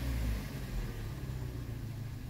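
A 2013 Hyundai Elantra engine idling with a misfire, a steady low rumble with uneven, skipping pulses, heard close and alone.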